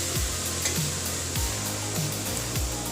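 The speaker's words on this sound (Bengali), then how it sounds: "তো আমি খালি কড়াইয়ে আগে শাকটাকে একটুখানি ভাপিয়ে নেব" Bottle gourd leaves steam in a dry wok over low heat, giving a steady hiss with a soft scrape or swish about every second; no voices.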